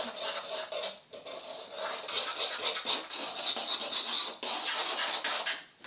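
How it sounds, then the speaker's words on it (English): Dry baking ingredients, including flour and a pinch of salt, are stirred together in a bowl, making a steady close scraping and rustling broken by a few brief pauses, with no one speaking. "we're just going to mix those ingredients up"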